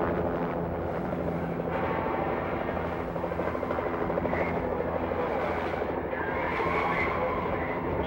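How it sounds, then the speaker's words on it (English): A rescue helicopter arrives in heavy snowfall, its rotor and engine making a loud, steady droning roar that fills the whole stretch without pause. "as soon as I said amen, the helicopter showed up"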